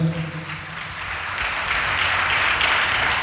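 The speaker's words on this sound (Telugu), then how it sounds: "చప్పట్లు కొట్టండి అందరూ గట్టిగా." A church congregation at a Palm Sunday service claps loudly together, the applause swelling into a dense, sustained roar after a brief fading voice at the start.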